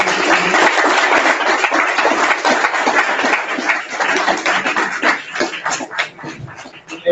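An audience at a Commonwealth defence lunch claps in a dense, sustained round of applause that gradually thins into scattered individual claps toward the end.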